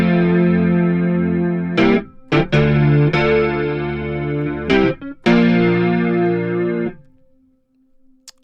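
A Yamaha CP70 electric piano through an amp simulation plays loud, gritty chorused chords with short gaps between strikes, then rings out and fades to near silence at the end, with no voices.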